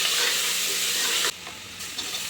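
Spices, coriander powder, sambar powder and tomato for drumstick sambar frying in a pan, a loud steady sizzle that suddenly drops to a softer hiss partway through, no talk.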